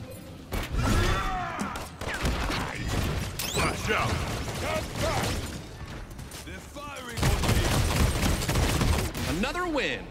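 Rapid gunfire and weapon effects from the hero shooter Paladins crackle in dense, continuous bursts throughout, layered with mechanical clicks and ability sounds, with players talking over the action.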